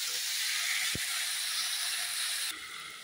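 Spices sizzle in a pan while being sautéed for a bottle-gourd-stem lentil dal, a steady close hissing sizzle that runs throughout and drops slightly near the end, with a soft tap partway through.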